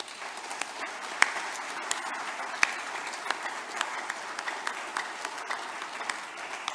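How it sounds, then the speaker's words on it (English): A church congregation at a Sunday service gives a sustained round of applause as a thank offering, steady dense clapping with sharp individual claps standing out throughout. "I'd like us to give a holy clap offering"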